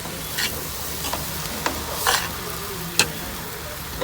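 Roast fish and shredded carrot being stirred in a pan, Jamaican style: a steady low sizzle with a few short scraping strokes and one sharper clink near the end, no voices.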